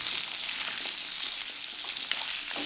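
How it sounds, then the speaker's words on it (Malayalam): Ripe gooseberries sautéing in hot oil for a Kerala-style pickle, a dense, steady sizzle with faint crackles and occasional stirring scrapes, close and continuous. "ഇനി ഇത് എണ്ണയിൽ നന്നായിട്ടൊന്ന് വാട്ടിയെടുക്കണം."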